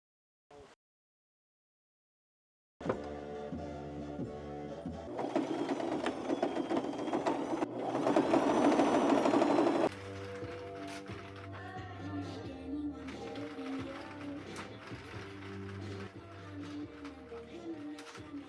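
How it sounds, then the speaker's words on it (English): A sewing machine stitches blanket fabric for sweatpants, running in loud bursts of rapid mechanical whirring after a brief silence, with changes in speed and pitch. "then we're going to start sewing everything together"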